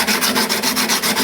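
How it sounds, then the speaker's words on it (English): Sanding over a repaired guitar crack where glued wooden sticks were cut flush, a steady rhythmic back-and-forth rasping of abrasive paper on wood, close and fairly loud, about six strokes with no talking. "and then a sanding"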